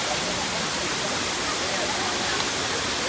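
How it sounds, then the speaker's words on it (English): Steady, dense roar of a waterfall in Kerala, close and loud, a continuous broadband rush of falling water with no pauses and no voices over it. "So it's quite the waterfall I'm talking about over here."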